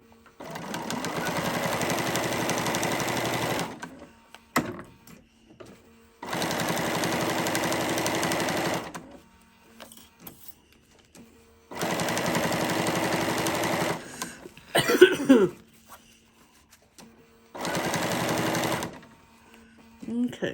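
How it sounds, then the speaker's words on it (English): A Bernina sewing machine stitches around the edge of a mermaid tail blanket in four long steady runs, loud and close, separated by pauses with small handling noises and brief speech. "Bernina stitched right over it like it wasn't nothing"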